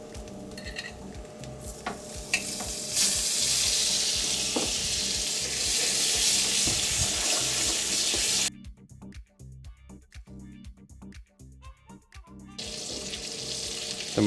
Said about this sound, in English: Chuck some butter in there, get it foaming up.